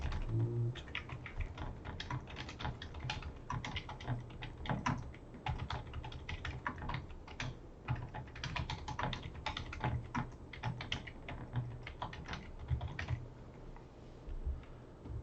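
Steady, rapid clatter of fingers typing on a computer keyboard while entering an assignment title and instructions in Google Classroom, with close, continuous keystrokes and brief pauses, and no talking.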